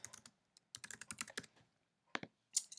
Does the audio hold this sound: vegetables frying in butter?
no